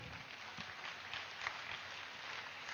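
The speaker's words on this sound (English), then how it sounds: "Let's give a huge round of applause to Mega Meditation Summit." Audience at a meditation summit event clapping, a faint, distant, even patter of applause sustained for a few seconds.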